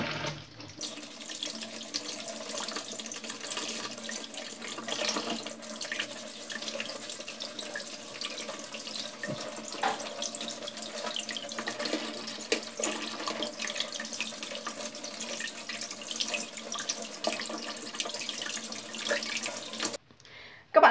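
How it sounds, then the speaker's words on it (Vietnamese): Tap water runs steadily into a sink while eggs are rinsed clean before salting, a continuous close splashing hiss with small knocks and shifts, ending with a brief pause near the end. "trước tiên thì mình sẽ rửa thật sạch những quả trứng nha"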